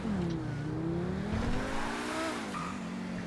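In GTA 5, a Lamborghini Huracán EVO Spyder's engine drones with a steady harmonic tone that slides up and down as the car drives, with faint tire noise beneath.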